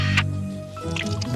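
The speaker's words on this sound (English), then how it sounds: "Then I carefully mixed the Kiesel Goor with the nitroglycerin." Thick wet squelching as kieselguhr clay is stirred into nitroglycerin, soft squishy smacks with a sharp click at the start.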